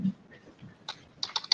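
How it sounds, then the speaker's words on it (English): Computer keyboard typing in a courtroom during a bond hearing, faint and sporadic at first, then a quicker burst of clicky keystrokes near the end. "Oh God, whose keyboard is that?"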